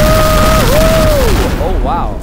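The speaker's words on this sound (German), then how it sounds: "Wow, da explodiert auf jeden Fall was." Disruptor explosions go off in the video game Teardown, a dense burst of loud booms and crackling blasts with a falling whistle-like tone over them, fading toward the end.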